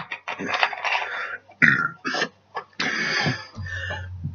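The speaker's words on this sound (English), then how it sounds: "if I burp at the end of it" A person burps loudly several times in bursts mixed with speech-like vocal sounds, close to the microphone.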